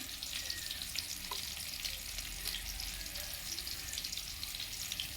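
Onions frying lightly in oil in a pan for a village-style gongura fry, a steady soft sizzle running evenly throughout with no talk.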